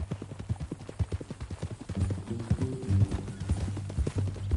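Horse hooves clip-clop in a steady walking rhythm in a PS4 video game, clear and close, with a low engine-like hum and faint background tones underneath.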